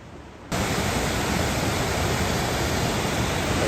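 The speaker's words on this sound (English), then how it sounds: "A waterfall." Waterfall in the north of Scotland, a steady broadband rush of falling water that cuts in abruptly and then holds loud and even, with no voices.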